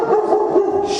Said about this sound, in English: The only person who barked at is Randy.